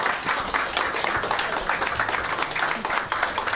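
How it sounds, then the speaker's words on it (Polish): Audience applause at a live podcast recording, dense and steady throughout, with continuous clapping from a crowd at fairly close range. "Dziękuję, brawa, moi drodzy."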